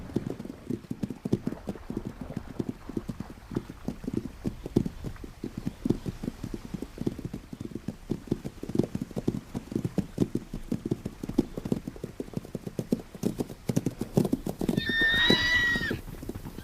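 Stallion trotting after a mare in the wild, with rhythmic clip-clop of hooves on the ground throughout and a near, shrill whinny near the end.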